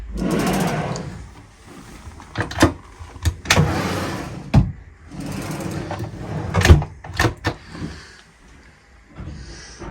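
Drawers under the foot of the bed on a Leopard 48 catamaran slide and bump, giving several close, sharp clunks and rattles among rustling, with a brief scrape or roar near the start.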